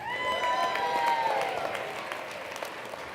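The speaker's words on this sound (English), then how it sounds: "friend Brett Smith from DeForest Architects, let's clap for him." Dense audience clapping for a sponsor at a ski talk evening, a steady sustained round of applause with a faint whistle-like tone early on, fading slightly toward the end.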